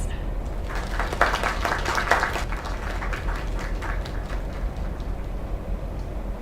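Applause from a crowd in the ending of the video game Lake, a steady burst of clapping at moderate loudness over a low background rumble, with no talking.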